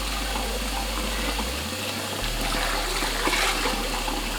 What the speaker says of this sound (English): Right now we're just going to rinse it off now with some hot water.